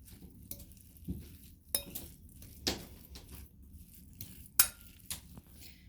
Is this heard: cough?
no